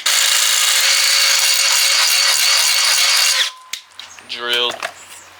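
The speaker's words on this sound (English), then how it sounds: "We've acquired the drill." A battery-powered drill runs continuously at a loud, steady whine for about three and a half seconds, then cuts off, followed by shorter clicks and handling noises in a garage.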